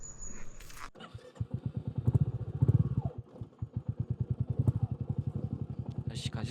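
A motorcycle passes nearby on a rough mountain valley track, its engine a loud rapid chugging pulse that swells and fades as it rides by.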